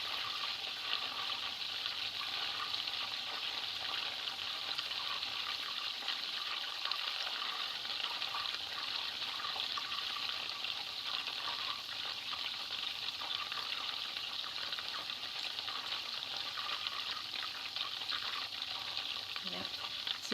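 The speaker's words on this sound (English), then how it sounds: "So you can see it's starting to get a little bit louder." Ghee simmers in a pan with a steady, dense sizzling and fine bubbling that keeps an even, moderate level throughout, with no voices over it.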